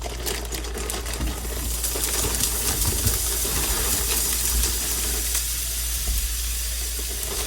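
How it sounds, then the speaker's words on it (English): Steady, loud sizzling and crackling of food frying in hot grease, with scattered sharp pops throughout. "It's going to pop. It's going to sizzle."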